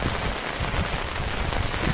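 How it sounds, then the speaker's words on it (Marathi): Rain falls steadily outdoors in hilly country with waterfalls, a dense, even hiss of drops on surfaces, fairly loud and unbroken, with no voices. "हे म्हणजे 5-5 मिनिटांनी पाऊस जातोय"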